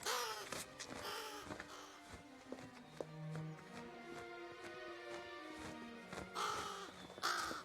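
A crow-like bird caws in a string of harsh, rasping calls close by, with a few quiet knocks and rustles in between and no talking.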